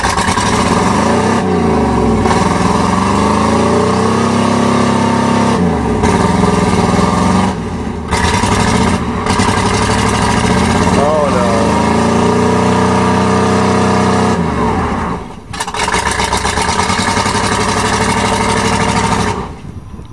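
A 1988 Chevy truck with a 305 V8, running rough with wet wires, a bad cam and rod knock, revs hard in mud; the engine roars continuously for about twenty seconds, rising and falling with throttle, with no talking.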